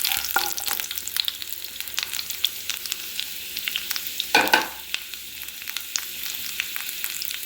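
Garlic frying in oil for cauliflower fried rice gives a busy, continuous close sizzle with crackling pops and a brief louder stirring scrape midway, no talk.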